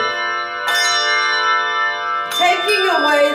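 Handbells ring out in a bell class, a sustained rich chord of bright tones that swells at onset and rings steadily, then a fresh cluster of struck bells overlaps near the end.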